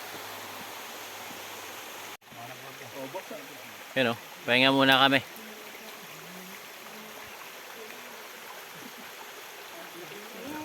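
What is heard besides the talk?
river stream flowing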